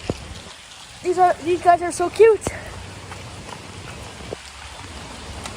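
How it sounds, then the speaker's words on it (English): Pouring rain at an outdoor petting zoo with goats, a steady patter on surfaces heard under excited nearby talking and a few brief animal calls. "Oh, geez, it's pouring rain."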